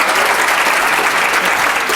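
UK Youth Parliament members in the House of Commons chamber clapping after a speech, a dense, loud, continuous burst of applause throughout.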